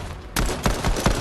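Gunfire aimed at a bomb in a Fortnite creative map detective case: after a short quiet start, several close, sharp shots ring out in an irregular burst, with no talk over them.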